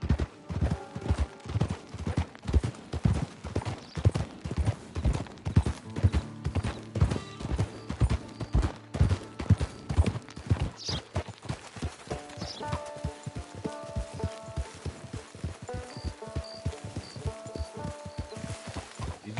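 Steady clip-clop of horse hooves in a brisk walking rhythm in Red Dead Redemption 2 Online, close and clear, with faint music-like tones underneath.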